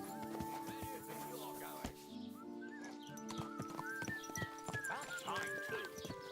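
A horse in the medieval role-playing game Kingdom Come: Deliverance II, hooves clip-clopping steadily with a whinny, over soft game music and ambient tones.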